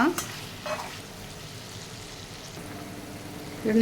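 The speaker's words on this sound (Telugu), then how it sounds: "ఇదంతా కూడా దీనిలోని చక్కగా ఫ్రై అయిపోవాలండి ముక్క" Chicken pieces fry in a pan with ginger-garlic paste, salt and turmeric for chicken fried biryani, giving a steady close sizzle with stirring scrapes near the start and again at the end.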